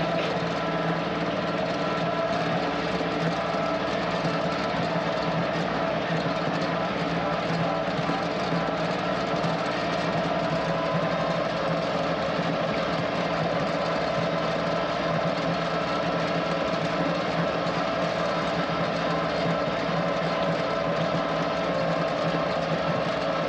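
A tractor engine runs steadily while hauling downed tree brush to a burn pile, a continuous loud droning hum with no pauses and no voices.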